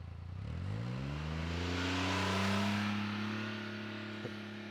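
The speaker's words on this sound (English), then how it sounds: "you guys can clearly hear that that engine's spooling up a little bit higher" An engine of a Polaris Ranger XD 1500 off-road utility vehicle in sport mode revs up steadily, its pitch climbing over several seconds as it accelerates away, loud and close throughout.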